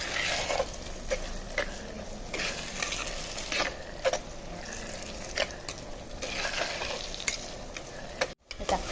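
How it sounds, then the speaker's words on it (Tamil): Onions and tomatoes sautéing in a pan for a Tamil fish curry, a steady sizzle broken by repeated scrapes and clinks of a spoon stirring, close and continuous, with a short gap near the end. "தக்காளியும் வெங்காயம் நல்லா வதங்கணும். இந்த மாதிரி போட்டு நல்லா வதக்கிட்டே இருங்க"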